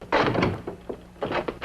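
Knocking at a door in a 1964 Walt Disney western: short hollow thumps in a quick cluster, a lone knock, then another cluster, fairly close with no voices.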